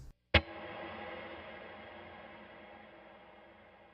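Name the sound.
electric guitar with big reverb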